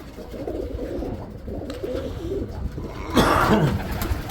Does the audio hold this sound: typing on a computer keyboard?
no